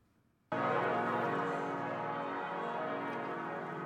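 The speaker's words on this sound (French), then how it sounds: "19h45, toutes les cloches de Strasbourg résonnent à l'unisson." Strasbourg's church bells ringing together in unison at a commemoration ceremony, a sudden loud onset of sustained, overlapping bell tones that ring on without a break.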